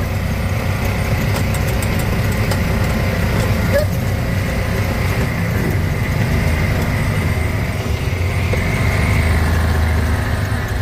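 Engine of a 1994 Club Car Carryall utility vehicle running steadily at close range, a constant low mechanical drone with no clear breaks and faint talk underneath.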